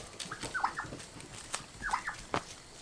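Turkeys kept free range outdoors on grass give a few short gobbling, warbling calls in two bursts, with a sharp squawk near the end, fairly close over a quiet yard.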